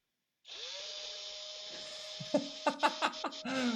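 A small handheld drill-like gadget with a feather attached whirs steadily with a high pitch, while several short bursts of laughter and voices cut in toward the end.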